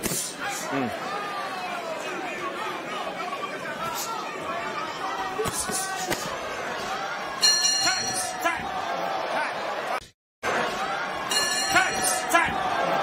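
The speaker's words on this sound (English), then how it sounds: "Ramirez threw that punch after the bell against Nova in the second round." Boxing bell ringing to end a round in a crowded arena, bright repeated dings cutting through loud crowd chatter and commentary.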